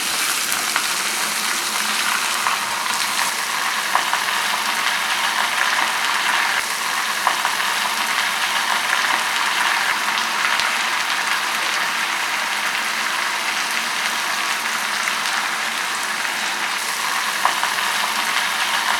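A kilogram of chicken frying in a pan with golden-brown onions for pepper chicken gives a steady, loud, broadband sizzle that holds evenly throughout, with no voices.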